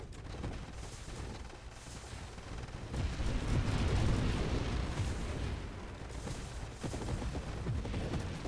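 Manually deployed turrets fire in a space video game, a dense continuous barrage of booming shots that swells and eases in waves, loud and unbroken.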